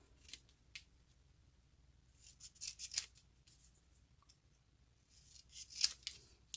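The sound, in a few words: cutting a piece with scissors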